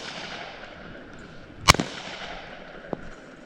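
An AEA Defender 2 .45 caliber air gun fires outdoors at a range, giving one sharp loud report with a quick second burst right after, then a fainter pop a second later against quiet background noise.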